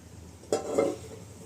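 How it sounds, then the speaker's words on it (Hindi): Chicken is tipped into white gravy in a pot with one brief clatter, then a soft, close sizzle and stirring sound that fades after about half a second, with no voices. "ये सारा चिकन वाइट ग्रेवी में इसी के अंदर डाल दे रही हूँ"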